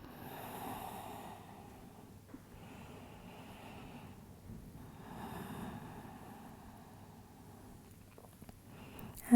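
Slow, steady yoga breathing during a calm yin practice, long soft inhales and exhales rising and falling in two broad waves, close and quiet over low room hum, with no talk.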